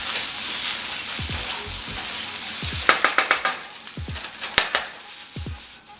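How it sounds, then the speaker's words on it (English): Chicken fried rice with bacon, broccoli and green onions stirred in a hot pan: a soft continuous sizzle broken by a run of quick metal spatula scrapes and clanks, close and without speech. "Give it one last stir."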